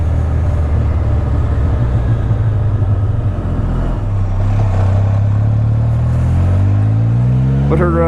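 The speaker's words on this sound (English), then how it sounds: "Taking you for a ride on a Spyder," Can-Am Spyder RT three-wheel motorcycle out on the road, its engine droning steadily and loudly with a low rumble and wind roar, the pitch shifting as it changes speed midway, no voices audible.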